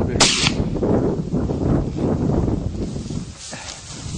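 A single sharp rifle shot fired at a mule deer on an eastern Colorado hunt, a loud crack near the start followed by rustling and movement, with a faint second impact later.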